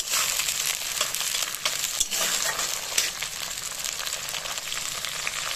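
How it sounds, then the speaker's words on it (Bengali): Tomatoes frying in a pan with onions for a mutton curry, a steady crackling sizzle with occasional stirring clinks, close and continuous. "টমেটোগুলো দিয়েও সামান্য ভেজে নেব।"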